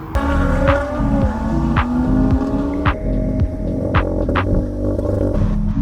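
Several car engines at a BMW drag racing event rumble and rev together in a steady, loud drone, with occasional sharper revs rising above the throbbing hum.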